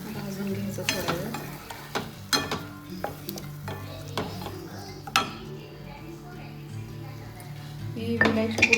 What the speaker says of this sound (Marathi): यामध्ये दूध टाकून घेतले मी दुधामध्ये मस्त असं आता ना भाजून घ्यायचं थोडा वेळ.